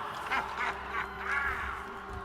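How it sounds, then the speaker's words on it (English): Quacking bird call in the video game No Rest for the Wicked, a few nasal honking calls repeating steadily over a low droning game background, with no talk. "Why does a bird sound Russian?"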